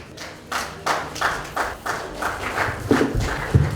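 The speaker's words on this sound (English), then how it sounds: "A round of applause for Group 4" Audience clapping for a student group's presentation in a classroom or seminar, a modest round of claps with loose, uneven rhythm and a few louder thumps near the end, fairly close.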